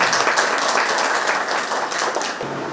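An audience claps at a Nazrul Sangeet music workshop in Mymensingh, a dense, steady round of applause lasting nearly three seconds before it thins slightly at the end, with no talking.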